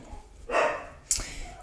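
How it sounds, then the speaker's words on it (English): Dogs bark somewhere in the background of a home, a couple of short bursts rising over a low room hum with faint talk nearby. "I have dogs barking in the background"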